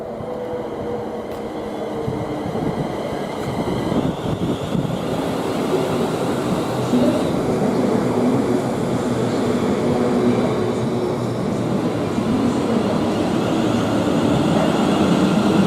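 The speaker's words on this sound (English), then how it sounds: "now arriving in, we've got a pair of 350s heading from Crewe to London Euston" A pair of British Rail Class 350 electric trains pulls into Nuneaton station on the West Coast Main Line, a steady, loud rolling rumble with wheel and rail noise building throughout and no voices.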